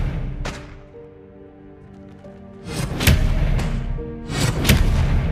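Spell effects from Hogwarts Legacy, the Depulso and Expelliarmus spells, land as two loud, rumbling whooshing blasts in the second half, each a rising surge of impact, over a low background hum.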